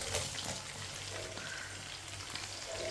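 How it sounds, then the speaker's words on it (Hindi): A chopped onion and whole cumin seeds fry in half a cup of hot oil for sarson ka saag, giving a steady, close, continuous sizzle with light crackles throughout. "प्याज को हल्का सा ब्राउन कर लेंगे।"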